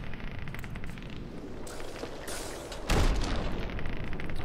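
Grenade blast in Fallout 3 aimed at turrets: a low rumbling battle backdrop, then one sudden loud boom near the middle whose roar lingers to the end.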